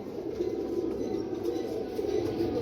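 Pigeons from a fancier's bred bloodline coo in a low, steady, continuous murmur close by, several birds overlapping with no pauses.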